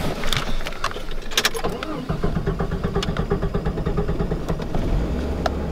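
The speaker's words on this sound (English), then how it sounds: "He's gonna hear the car start." A car engine cranks and catches, then settles into a throbbing, close-up idle and rev as it pulls away.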